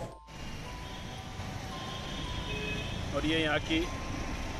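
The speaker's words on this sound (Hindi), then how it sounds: "MI रोड की ट्रैफिक" Road traffic on MI Road in Jaipur near the Panch Batti junction: a steady roadside rumble with tonal horn-like beeps, heard under someone talking.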